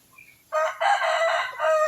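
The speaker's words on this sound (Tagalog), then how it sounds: "Ayun ang mga manok natin." Backyard chickens crowing and clucking nearby, a loud drawn-out call that rises after a brief quiet start and holds for over a second with no talking.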